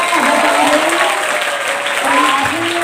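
Audience applause at a school student orientation assembly at SMK Negeri 1 Amuntai, steady broadband clapping filling the hall for about three seconds, with faint voices and music-like tones underneath.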